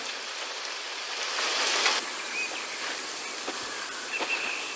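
Steady rain falls in a quiet prehistoric setting, a continuous even hiss with a few faint drips and small rises in intensity, with no voices.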